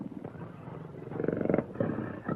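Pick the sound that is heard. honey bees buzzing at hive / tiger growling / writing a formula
tiger growling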